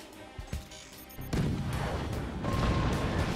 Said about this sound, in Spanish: A ver si podemos hacer un pequeño disparo por ahí